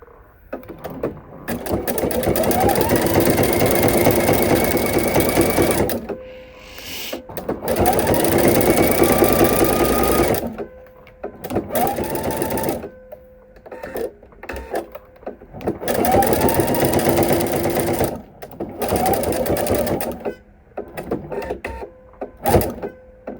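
A domestic sewing machine stitches satin trim onto a fleece blanket, running in steady whirring bursts of several seconds each, separated by short pauses where the needle stops and the fabric is pivoted.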